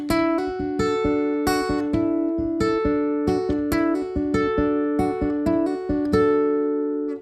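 An acoustic guitar plays the second guitar part of a song: clear, close picked notes ringing in a steady, repeating arpeggio pattern, played alone without any voice.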